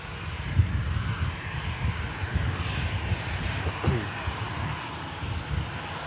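A TUI airliner passing in evening light, its engines a steady broadband roar at moderate distance, with people talking faintly over it.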